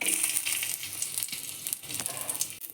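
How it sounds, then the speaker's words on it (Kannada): Garlic fries in a little oil in a pan, giving a continuous close sizzle with crackly pops and light stirring scrapes, fairly quiet and without voices. "ಇಂಗಿನ ಬದಲು ನಾನು ಇಲ್ಲಿ ಬೆಳ್ಳುಳ್ಳಿನ ಸ್ವಲ್ಪ ಫ್ರೈ ಮಾಡ್ತಾಯಿದ್ದೀನಿ"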